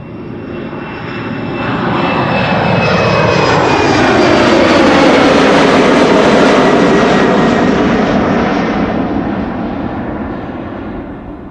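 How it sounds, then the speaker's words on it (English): A Boeing 737-800 airliner takes off from the runway, its jet engine roar swelling from a distance to a loud, sustained rumble with a rising whine, then slowly fading as it climbs away. "(737-800) to Istanbul just took off from runway center."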